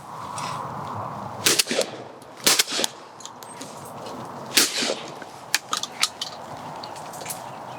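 Gas-operated Beretta 301 semi-automatic shotgun fired outdoors at clay targets, several sharp loud reports: two close together, then a single shot, then a quicker cluster of sharper cracks, over steady background noise.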